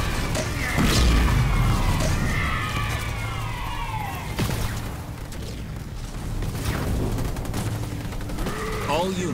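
Battle noise from the real-time strategy game Halo Wars 2: continuous gunfire and explosion booms layered with in-game unit voice callouts, dense and loud throughout.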